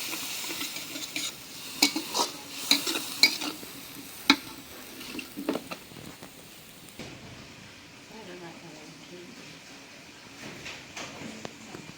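Ground turmeric, chili and coriander powder with a splash of water stir-fried in a pan, scraping and clinking utensil sounds over a soft sizzle, busier at first then settling into a quieter steady fry, with speech at times.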